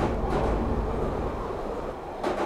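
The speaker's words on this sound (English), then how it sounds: "The train." A train rolls past close by with a loud, sustained rumble and rattling of cars on the rails. The noise stays steady throughout, with a brief brighter swell near the end and no voices.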